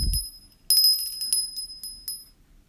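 A small Arizona souvenir bell with a roadrunner design rings with a short bright metallic chime as it is set down, followed by a few lighter jingles and taps that fade out.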